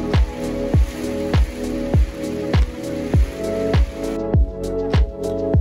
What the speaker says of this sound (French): Et cette pluie avait un impact assez fort sur certains d'entre nous.